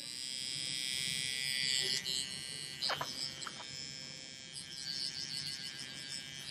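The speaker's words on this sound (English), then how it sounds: "I mean, it sounds like an e-file." Electric nail file drill running at high speed, a thin steady whine with small pitch shifts and brief changes in load, fairly quiet and close, with a voice speaking softly over it.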